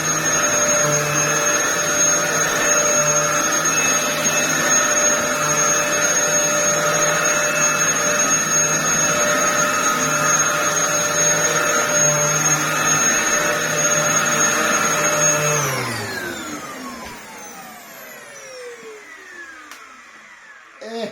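A repaired Dyson DC07 upright vacuum cleaner runs with a loud, steady motor whine for about fifteen seconds, then switches off and winds down with a falling pitch.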